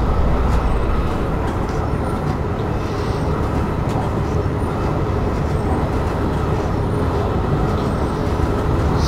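An SHG 5047 train running through Tyrol, Austria, in Train Simulator 2020, a continuous loud rumbling roll of wheels on rail with a steady, unbroken drone that lasts the whole stretch without talk.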